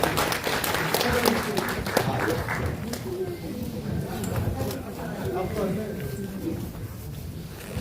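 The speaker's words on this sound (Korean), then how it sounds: "큰 박수로 맞으시기 바랍니다" An audience at a residents' meeting on a redevelopment project claps to welcome guests, a dense spread of applause that fades gradually under a speaker's voice.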